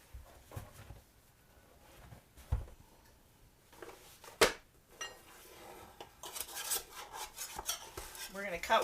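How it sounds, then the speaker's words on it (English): A butter knife scraping and clinking around the edges of a banana bread loaf pan, with scattered metallic scrapes and taps, one sharper knock near the middle, and busier scraping toward the end. "We're just going to take a butter knife or similar tool around the edges."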